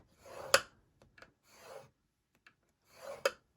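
A stylus scores paper along the quarter-inch grooves of a scoring board: a few short, dry scraping strokes, close and quiet, separated by brief pauses, with a couple of small taps and no talk.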